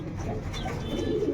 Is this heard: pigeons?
yes